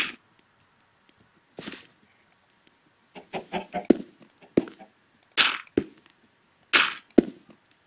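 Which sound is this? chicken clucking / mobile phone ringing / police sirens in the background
chicken clucking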